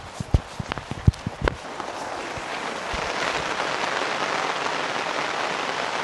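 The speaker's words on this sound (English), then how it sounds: "It's raining." A few scattered footsteps, then a steady hiss of rain falling on a surface, growing slightly heavier and continuing without a break.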